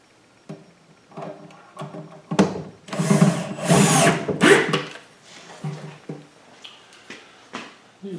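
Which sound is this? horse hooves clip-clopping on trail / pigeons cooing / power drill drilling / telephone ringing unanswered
power drill drilling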